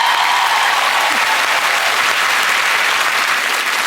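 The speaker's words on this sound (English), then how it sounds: "A round of applause, I think, for that." A television studio audience applauds for a gold medal winner on a surprise entertainment show, loud sustained clapping that holds evenly from start to finish.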